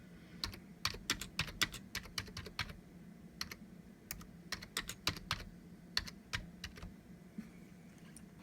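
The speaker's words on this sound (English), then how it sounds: "You can just type something in." Fingers tap on a computer keyboard in quiet bursts of rapid keystrokes with short pauses, close and fairly soft, without any talk.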